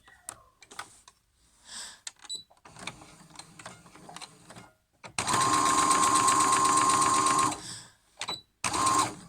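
A sewing machine runs a straight seam through fabric in one loud, steady whirring burst of about two seconds, followed by a short second run, after quieter handling noises and clicks.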